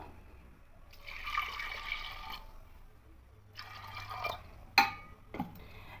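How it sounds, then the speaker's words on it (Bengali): Water is poured in bursts into a pressure-cooker pot of spiced biuli (urad) dal, with short splashy pours separated by pauses and a sharp clink of a vessel near the end, close and quiet. "এবার জল দিয়ে দেবো"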